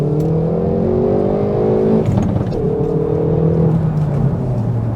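Hyundai i30N hatchback accelerating hard, its engine note loud and steady from inside the cabin, rising in pitch through the gears with a brief shift break midway, no talking.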